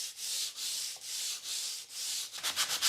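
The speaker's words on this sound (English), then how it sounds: "Just going to give it a light sanding by hand with some 120 grit paper." A shelf with oak veneer is sanded by hand with 120 grit paper in five steady back-and-forth strokes, then a quicker run of short rubs, close and crisp with no talking.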